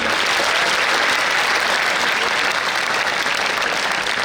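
Audience at a Hindi religious discourse in Gondia, Maharashtra, applauding a boy with dense, steady clapping that fills the whole short clip at close range.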